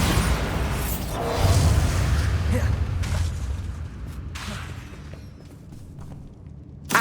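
The Bombarda spell explodes in the video game Hogwarts Legacy: a rumbling burst with whooshing debris and mechanical creaks that fades out, followed by a sharp pop near the end.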